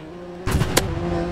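A car in the Roblox game Criminal Tycoon rushes past with a quick swelling engine whoosh and a sharp peak, heard over a steady background hum.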